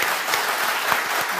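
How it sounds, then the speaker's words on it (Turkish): An audience claps steadily through the whole moment at a Turkish village association gathering. The applause is dense and continuous, with no voices standing out. "eski yönetime bir alkış alalım lütfen"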